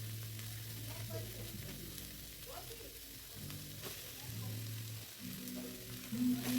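Boiled chowmein is sautéed with vegetables in a pan, giving a faint steady sizzle with light stirring and a low hum underneath.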